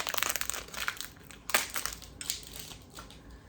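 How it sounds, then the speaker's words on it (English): Protective plastic film peeled and crinkled off a new security camera, close by, with crackling and crumpling bursts over about three and a half seconds and a sharper rip near the middle, no talking. "Take off this protective plastic."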